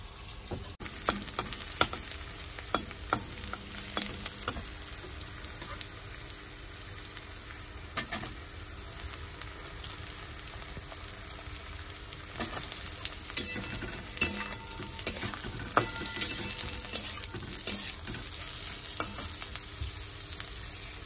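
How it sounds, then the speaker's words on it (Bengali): Cut potatoes frying in oil, a low continuous sizzle with irregular pops and clicks that grow denser and louder toward the end. "আর এখানে তো এই যে আলু কেটে নিয়েছি, আলুগুলো ভাজবো।"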